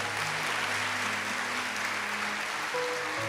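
A congregation claps for the Virgin Mary during a Catholic talk on Pentecost, a dense continuous applause filling the room at moderate loudness with a low hum underneath.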